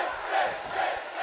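Arena crowd roaring and chanting in the wrestling game WWE 2K18, a brief dense swell of massed voices rising and falling in waves.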